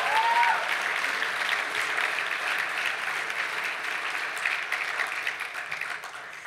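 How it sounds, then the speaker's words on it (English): Sustained applause from a benefit-dinner audience for a group of dancers, a steady dense patter of many hands lasting the whole stretch at even strength before easing slightly at the end. "Let's give them another round of applause."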